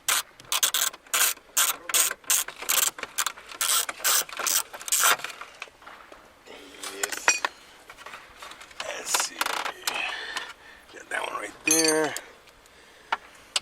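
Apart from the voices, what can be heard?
screws being removed from a 1993 Ford Mustang console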